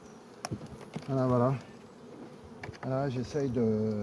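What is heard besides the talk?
honeybees buzzing at the hive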